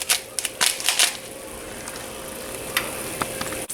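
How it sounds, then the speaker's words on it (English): Crackling sizzle of an egg frying in a pan with a little salt, with a burst of sharp pops early on that settles into a steady hiss. "As we are ready for our first egg, letting that sizzle."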